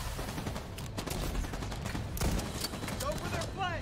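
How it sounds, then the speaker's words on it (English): Shotgun fire in The Division 2 rings out in rapid, overlapping blasts amid other gunfire during a firefight, loud and continuous, while a player talks over it. "I'm just shotgunning these guys"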